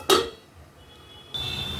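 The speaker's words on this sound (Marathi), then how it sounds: "मी याला झाकून थोडंसं 2 मिनिट शिजवणार." A metal lid set onto a cooking pot of tomato-based dal and bottle-gourd curry: one sharp clink, a quiet pause, then a steady hissing simmer once the pot is covered.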